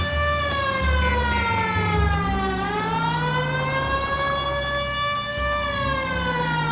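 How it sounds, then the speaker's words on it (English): A police car siren in the video game L.A. Noire wails loud and close, its rising and falling tone sweeping steadily over a low engine rumble with no talk. "Turn on the siren and pull her over."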